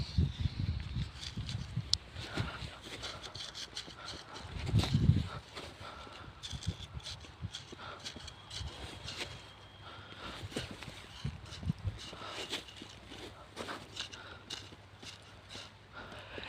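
A horse runs at a camp horse competition, its hooves giving faint irregular clip-clops against quiet outdoor background with occasional soft thumps and rustles, fairly distant and low in level.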